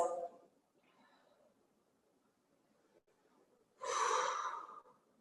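Slow exhaling breaths during a hamstring stretch, a soft breath at the start, then near silence, then a louder, longer exhale close to the mic.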